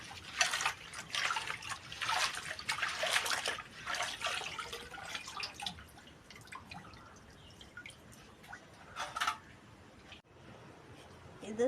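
Pineapple being washed by hand under running tap water, with bursts of splashing and dripping that come and go in several waves before easing off.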